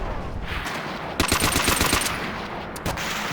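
An StG 44 assault rifle fires in Call of Duty: World at War, a rapid burst of about a second of loud, close automatic shots over game background noise, followed by one more short shot.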